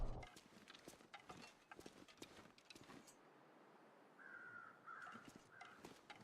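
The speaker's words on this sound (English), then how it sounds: "Hear crows." Crows caw in the snowy wilderness of the survival game The Long Dark, a series of harsh calls scattered through the first few seconds over wind and footsteps, then quieter ambience with a faint tone.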